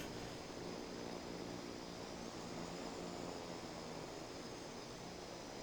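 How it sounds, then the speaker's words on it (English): Airliner in the Infinite Flight game taxis on the runway, its engines a steady, even broadband rumble and hiss that runs unchanged throughout with no voices. "Yes, we are taxiing on the runway."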